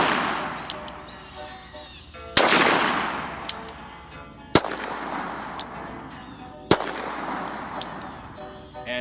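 A Colt Lawman revolver fires .38 Special rounds single action, three sharp loud shots spaced about two seconds apart, each ringing into a long outdoor echo, with faint clicks between shots.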